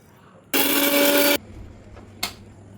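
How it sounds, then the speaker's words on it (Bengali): A mixer grinder grinds roasted fennel and black pepper in one loud, whirring burst of under a second that cuts off sharply, followed by quiet and a brief click. "তো এখন এটা ভালোভাবে এটাকে মিক্সিতে গ্রাইন্ড করে নেব"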